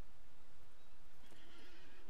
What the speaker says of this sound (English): I stopped to call my horse.